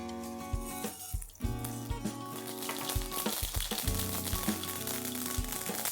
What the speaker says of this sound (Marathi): प्रथम फोडणीत आपण 1 टीस्पून मोहरी टाकूया.